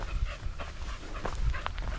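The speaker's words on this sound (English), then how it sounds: "so we got a dog in this yard next to us" A dog pants and breathes heavily outdoors in a yard, with faint whimpers and rustling in a steady, close rhythm.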